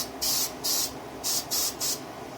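Short bursts of cleaner sprayed onto a Walther PPX pistol, five quick hissing pumps in an uneven rhythm, close and fairly soft.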